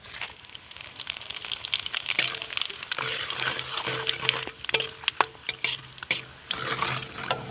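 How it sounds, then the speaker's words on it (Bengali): Whole spices (bay leaf, dried chilli, cinnamon, clove, cardamom and cumin) sizzle in hot oil with a little melted sugar for a chicken curry, a loud, close crackle with sharp pops and stirring scrapes throughout. "এখন ওই তেলের মধ্যে অল্প একটু চিনি দিয়ে দেবো দিয়ে চিনিটা গলা অবধি অপেক্ষা করবে একটু ফোড়নে দিয়ে দেবো গোটা তেজপাতা শুকনো লঙ্কা দারচিনি লবঙ্গ এলাচ আর গোটা জিরে"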